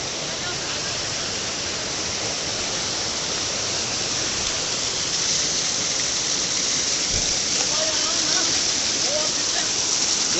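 A hidden waterfall high on a hilltop in the Bastar area, Dhamtari–Kanker region, gives a steady, close rushing roar of falling water that runs unbroken through the whole stretch, with faint voices now and then underneath.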